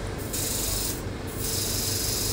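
A HydraFacial trimmer runs across facial skin with a loud, steady abrasive rubbing hiss that holds without a break from start to finish.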